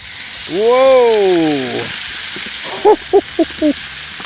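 Food sizzles in a hot pan during outdoor barbecue cooking, a constant hiss underneath while a voice lets out a long drawn exclamation followed by a few short vocal bursts.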